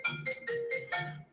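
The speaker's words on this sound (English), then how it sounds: "that's my phone ringing" A phone rings with a quiet, bright electronic melody of about five quick notes in a rising and falling pattern, heard alone and faint over a short moment.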